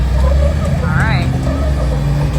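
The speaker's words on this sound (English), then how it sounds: "Here it comes, the power rider right here. 65 mean horsepower, a flathead Dodge getting it done." Flathead Dodge engine of about 65 horsepower in an off-road vehicle revving loudly, a close, rumbling low drone rising in pitch, with voices talking over it.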